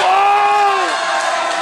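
Wrestling arena crowd at a TWF championship match, roaring loudly and continuously with a sustained wave of voices and whoops that tapers slightly toward the end, close and dense.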